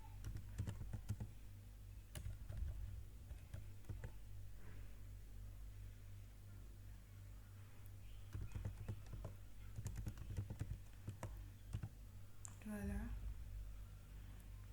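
Typing a document header on a computer keyboard gives bursts of quiet key clicks, steady then in clusters over a low hum, with a person speaking French at points.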